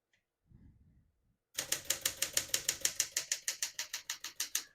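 A 1965 Smith-Corona Sterling manual portable typewriter strikes keys in a steady, even rhythm of sharp metallic clacks, close up, after a brief soft rustle.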